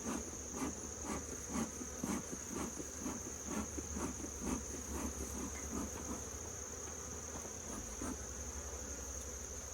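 Honey bees hum steadily inside an open hive, a continuous droning buzz with a high whine running throughout, joined by soft repeated puffs and rustles close by.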